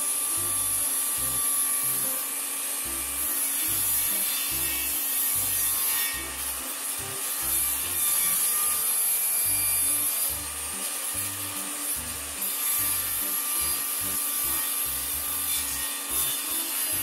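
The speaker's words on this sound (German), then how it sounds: "Bevor wir das Sägeblatt aufführen können, weil der Spaltkeil hebt uns sonst dauernd den Schlitten in die Höhe." Wood is cut on a table saw fitted with a shop-made sliding crosscut sled, a close, steady rasping saw sound that pulses in a regular back-and-forth rhythm, with no voices.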